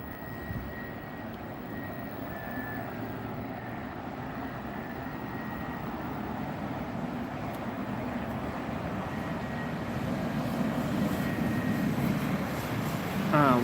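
An Etihad Airbus A380 lands on runway 27R at Heathrow Airport, a broad, steady engine roar that builds gradually over more than ten seconds, distant at first and growing louder, with no talking.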